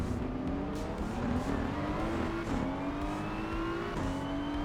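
A GT3 race car engine roars in the Assetto Corsa Evo racing game. The pitch climbs steadily through the gears, with brief drops at each upshift, under a continuous rough road and tire rumble.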